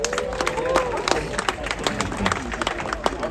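Audience applauding to welcome two guests on stage at a Pride (CSD) event, steady dense clapping with crowd murmur throughout.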